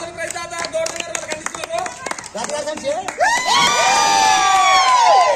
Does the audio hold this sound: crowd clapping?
yes